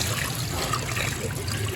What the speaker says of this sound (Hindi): इतना स्पीड से पानी ऊपर आ रहा है।